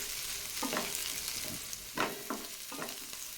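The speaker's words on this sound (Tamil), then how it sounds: "ஒரு பெரிய வெங்காயம், ஒரு பச்சை மிளகாயை கட் பண்ணிவிட்டு சேர்த்துக்கோங்க. இதையும் சேர்த்துட்டு ஃப்ரை பண்ணிக்கலாம்." Chopped onion and green chili lightly frying in a pan for homemade wheat noodles, a low constant sizzle with several quick stirring scrapes and clicks from a utensil, with no speech.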